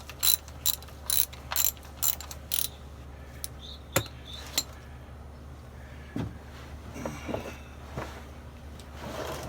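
Ratchet loosening a 14 mm oil drain plug on a 2016 Toyota 4Runner: a quick series of close, crisp clicking strokes, followed by a few scattered metallic clinks and handling sounds.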